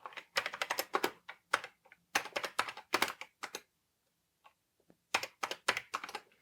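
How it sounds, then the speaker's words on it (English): Typing on the keyboard of a Panasonic KX-WL55 laptop word processor, bursts of quick close key clicks separated by short pauses. "So let's type something."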